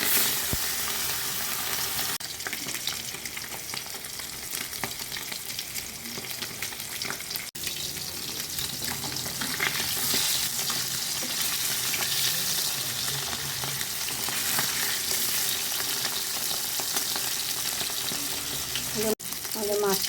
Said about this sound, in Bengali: তেল গরম হয়ে গেছে। এবার আমি মাছ দিচ্ছি একটা একটা করে।